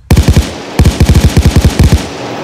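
A mounted turret fires in the Roblox war game: loud, heavy automatic bursts. A short burst of four shots is followed after a gap by a longer rapid string, each shot booming with a deep punch.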